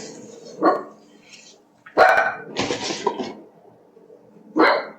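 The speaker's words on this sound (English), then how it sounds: "This is the time of evening my little dog sees everybody coming home from work, the kids coming home from school, and she's very nosy." A small dog barks at people arriving home from work and school in the evening: a few sharp, separate barks close by, with quieter stretches between them and no talking.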